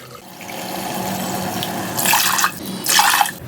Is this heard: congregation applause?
no